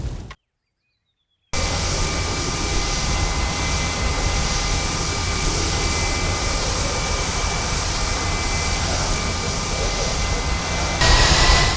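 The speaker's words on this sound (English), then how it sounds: "The last TR-1 aircraft built at 8 leaves the Lockheed factory" TR-1 jet aircraft in ARMA 3, a steady, loud engine roar with a continuous whine after a brief silent gap near the start, sustained without change and swelling slightly at the end.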